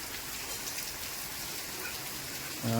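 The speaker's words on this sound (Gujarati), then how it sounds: "અત્યારે વરસાદ પણ બહુ સારો છે" Steady rain falls in a dense, even hiss in the Gir forest of Gujarat, with a faint voice starting at the very end.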